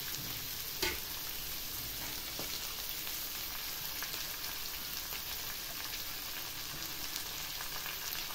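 Chopped capsicum frying with a semolina mixture in a pan, giving a steady, fairly soft sizzle with a sharp clink near the start and faint occasional stirring sounds.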